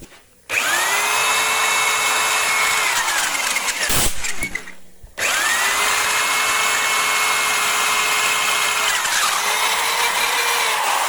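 Power drill boring holes into alabaster, a loud, high whining spin that runs steadily, stops briefly amid a few knocks, then resumes for a long second pass.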